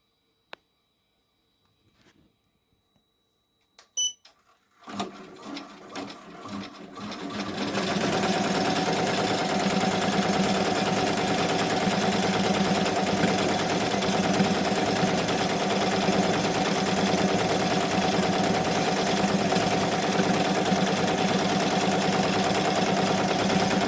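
A Ricoma EM1010 embroidery machine stitches patches for a letterman jacket. After a few quiet seconds and a click, it starts a steady, rapid mechanical whirring that runs unbroken to the end, close and fairly loud, with no talk.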